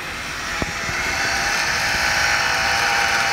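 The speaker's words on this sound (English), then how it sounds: "Watch the fan go to town." A small laptop cooling fan in an iBook G4 Clamshell whirring loudly and steadily, a constant airy hiss with a faint click near the start.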